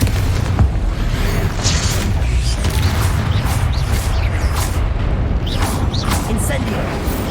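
Spell blasts in Hogwarts Legacy, including the Confringo explosion, rumble as dense, low booms and crackles throughout a busy combat soundscape, with a voice speaking over the action.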